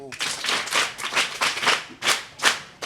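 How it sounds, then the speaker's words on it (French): Audience clapping at a storytelling performance, a rhythmic series of loud, close handclaps in a steady beat, with voices mixed in. "Bravo, applaudissez pour vous."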